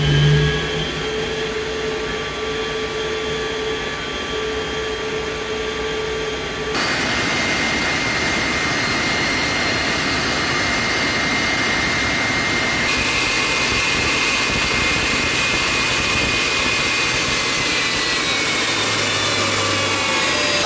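A jet engine runs loud and close for the whole stretch with a steady, dense roar and a high whine. The tone shifts partway through as the noise swells, and no one speaks.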